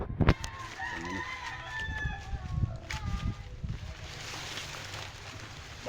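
A rooster crows clearly while chickens cluck around it, with scattered thumps and rustling nearby; the crowing fades and leaves softer farmyard noise.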